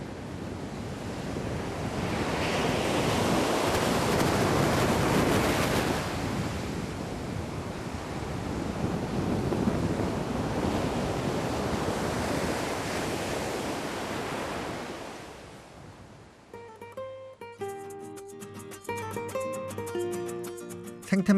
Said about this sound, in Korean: 바다가 들려주는 파도 소리만 흐릅니다